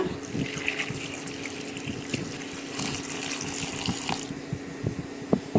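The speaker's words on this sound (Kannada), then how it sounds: "ಇವಾಗ ಇದಕ್ಕೆ ಸ್ವಲ್ಪ ನೀರನ್ನು ಹಾಕ್ಕೊಂಡು ಬೇಯಕ್ಕೆ ಇಟ್ಬಿಡೋಣ" Water poured into a pot of mixed vegetables for temple-style sambar, a steady splashing stream with small clinks and knocks, running continuously at close range with no voices.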